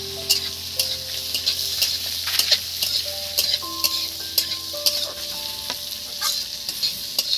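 Onions frying and being stirred for mutton curry, a steady sizzle broken by frequent sharp scrapes and clinks of a spoon against the pan, with some faint tonal background sounds.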